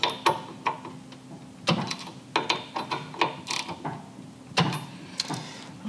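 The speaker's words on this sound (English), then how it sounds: "now we'll just come in with a wrench and tighten these down" A wrench ratchets repeatedly while tightening bolts on a motorcycle bagger's foot control brake arm, giving close, crisp clicking strokes in irregular short runs with brief pauses between them.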